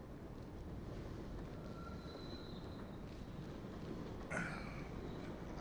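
Train rumble from the rail scene in The Sopranos finale: a steady, loud roar of passing railroad cars with faint wheel squeal, building throughout and swelling briefly near the end.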